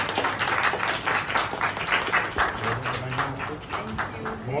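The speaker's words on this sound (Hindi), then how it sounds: "सभी तालियों से स्वागत करें" Staff at a retirement gathering for a government girls' school principal in Delhi clap in welcome, an uneven patter of hand claps at moderate volume that continues unbroken through the moment.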